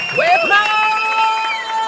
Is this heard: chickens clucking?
no